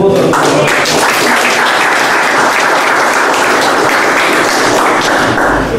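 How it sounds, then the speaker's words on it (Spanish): Loud, sustained audience applause at a medical talk, dense clapping that fills the whole stretch at full strength with no break. "vamos a darle también un cariñoso y fuerte aplauso a toda mi gran familia, a la familia de la INT."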